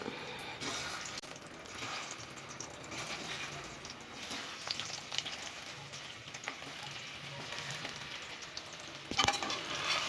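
Marinated potato pieces sizzle in hot oil in a pan on medium heat for a dum aloo masala, a steady soft frying hiss with faint clinks and stirring, fairly quiet throughout.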